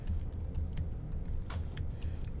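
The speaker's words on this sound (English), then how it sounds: "type some stuff in" A computer keyboard clatters in short, quick runs of close key taps over a steady low hum.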